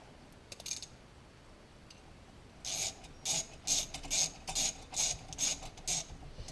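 A ratchet wrench clicks in quick repeated bursts, about nine short strokes in a row, close and clear, as it tightens the starter cover on a Briggs and Stratton small engine, with no talking.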